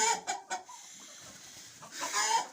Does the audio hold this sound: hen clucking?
yes